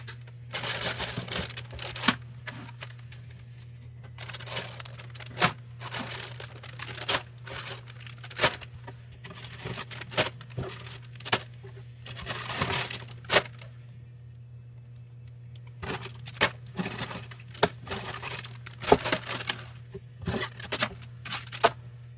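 Packaging for a Blokees G1 Megatron model kit is handled up close: plastic bags crinkle and paper rustles in irregular bursts with short pauses, over a steady low electrical hum.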